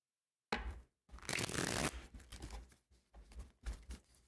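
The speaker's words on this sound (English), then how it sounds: "let's shuffle these cards and see what we got" Tarot cards are shuffled close up in quiet surroundings: bursts of riffling and rustling paper, one long riffle, then shorter flicks and taps.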